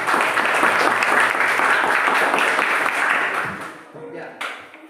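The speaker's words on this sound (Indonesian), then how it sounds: "Oke, tepuk tangan." An audience claps loudly and steadily for several seconds, then the applause thins and fades out, with a voice briefly audible near the end.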